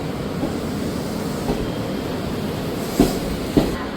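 A Japanese commuter train in Fukuoka rumbles steadily along the track from inside the carriage, with a constant low drone and a couple of sharp rail-joint clacks near the end, and no talking.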